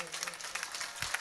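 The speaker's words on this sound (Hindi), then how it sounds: "यज्ञ के नाम पर सब ताली बजेबे" An audience claps during a Ram Katha religious discourse at a yajna, brief scattered applause that is fairly faint and mixed with voices.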